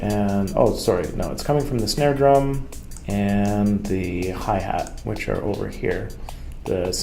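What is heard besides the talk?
None of the usual background noises is heard.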